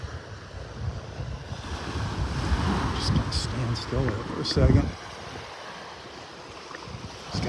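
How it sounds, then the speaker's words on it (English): Gusty wind and surf on a beach in North Naples, Florida, with breaking waves and rumbling wind buffeting the microphone while someone talks close by. "It makes it a little breezy out on the beach."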